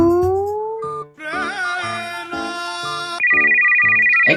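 A mobile phone ringtone plays loud and close, a bright electronic melody of rising tones followed by a rapid repeated beeping figure, alone with no voices over it.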